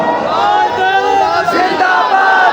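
A large crowd of young men chants a slogan back in unison, loud and close, voices blending into a sustained roaring response at a religious gathering in Sahiwal.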